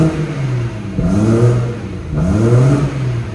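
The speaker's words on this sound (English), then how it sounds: "if we were to rev the engine" A BMW M140i engine revs up twice in deep, throaty bursts, each rise and fall clearly audible with a rumbling exhaust tone through an open exhaust valve close by.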